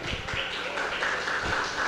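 A church congregation claps together in a steady, dense wash of applause with a few sharper hand taps, sustained and fairly even throughout.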